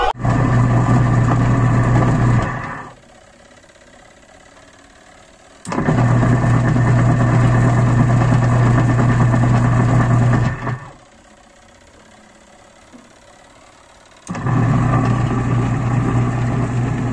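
An American Home motor on a timer runs in steady bursts, switching on for a few seconds with a loud, even hum, stopping to near silence, then starting again, three cycles in all.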